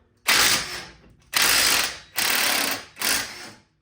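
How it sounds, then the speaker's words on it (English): A ratchet wrench spins off a rusted jam nut on a 2012 Ford Explorer tie rod, four quick, loud bursts of clicking separated by short pauses. "All right, we're gonna zip this jam nut off."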